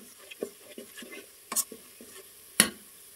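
Onions and crushed garlic frying in a pan for Punjabi-style rajma, a spoon stirring with soft scrapes over a faint sizzle and two sharper clinks of utensil on the pan.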